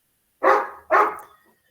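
A neighbour's dog barks twice in quick succession, loud and close, the second bark trailing off slightly, with silence around it.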